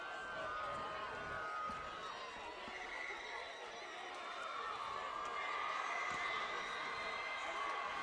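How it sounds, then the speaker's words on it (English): A crowd of high school football fans cheers from the far side of the field at a Durfee vs. Somerset-Berkley game, a steady, distant roar of voices that lasts throughout. "And now we're hearing the Somerset crowd on the other side getting loud."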